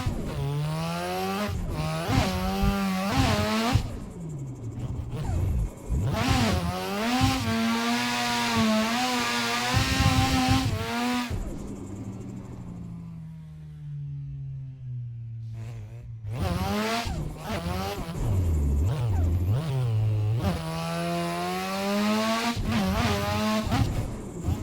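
Turbocharged drift car in a racing game, engine revving hard and wavering through long pulls with tire squeal, easing off briefly midway then climbing again, loud and continuous with no talk.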